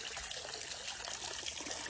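Fresh water trickles and splashes steadily into a backyard birdbath, a soft, continuous, gently bubbling patter at low level with no voices over it.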